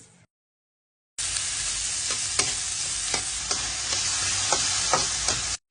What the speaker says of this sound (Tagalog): Ngayon naman, magigisa tayo ng bawang, sibuyas, at kamatis.